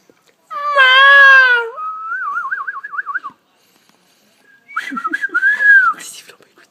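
Human whistling with bright, pure tones, first a sustained note, then a warbling trill, a pause, and another wavering whistled phrase, loud and close.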